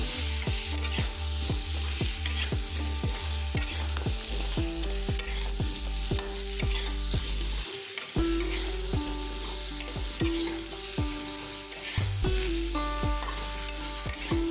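Kohlrabi pieces sauté over a low flame in a pan, with a continuous close sizzle and regular scraping strokes of a spatula that repeat at an even rhythm throughout, and nobody speaks.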